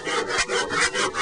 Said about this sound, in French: Je vais le faire à la main, pas à la circulaire, pour que le trait de scie soit le plus fin possible.